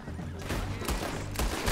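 Bolt-action rifle shots ring out in Red Dead Redemption II, three sharp cracks spaced unevenly over a low game background.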